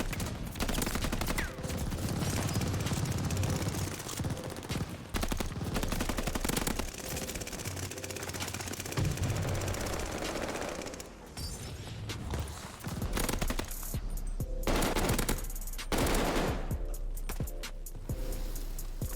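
Rapid, sustained LMG machine-gun fire rattles through a Call of Duty Vanguard match in dense, loud bursts with brief gaps, backed by further gunshots and clattering game action.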